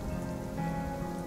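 Steady rain falls outdoors in cold weather, a dense continuous patter on surfaces with no pauses, no voices over it.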